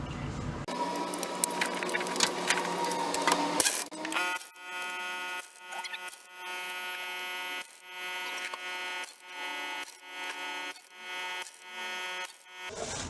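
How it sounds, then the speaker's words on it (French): An impact wrench tightens bolts on the Dana 35 rear axle of a Jeep Cherokee XJ, firing in a series of about eight short, buzzing hammering bursts with brief pauses between, close and loud, after a few seconds of broad noise. "Alors sur ma visseuse à choc, je vais pas mettre trop fort pour commencer."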